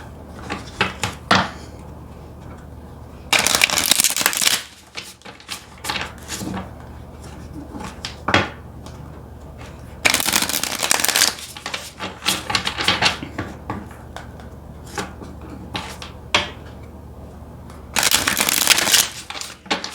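Bursts of tarot cards being shuffled, crisp riffling flurries repeating every few seconds with quieter taps and shuffles in between, close up.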